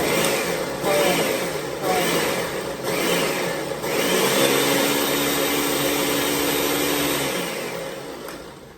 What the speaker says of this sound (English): Put it back on the blender. And then pull.